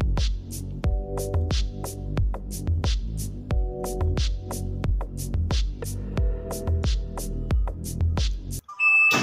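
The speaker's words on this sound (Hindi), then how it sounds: "आप देख सकते हैं कि हमारी वॉशिंग मशीन पे एरर E2 का निशान आ जाता है और साथ ही इसकी बीप सुनाई देती है।" A Dawlance DW 255 automatic washing machine, switched on in dry mode, signals its E2 error with a regular string of short electronic beeps over a steady low hum, close and clear with no talking.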